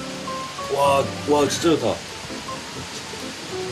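Steady rushing hiss of a waterfall at the Hakone hot spring, a broad even wash heard nearby while people talk excitedly over it.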